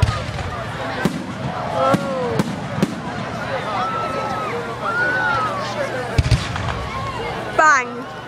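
Fireworks going off outdoors, with several sharp bangs scattered over the clip amid chatter and exclamations from a small group of people, ending with a rising whistling burst.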